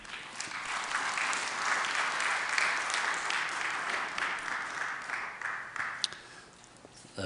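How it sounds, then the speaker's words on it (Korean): Warm audience applause greeting a lecturer at a seminar held at Kosin University, a steady moderate round of clapping from a hall that tapers off near the end, with a single sharp knock just before it fades. "나오실 때 따뜻한 박수로 맞아주시기 바랍니다"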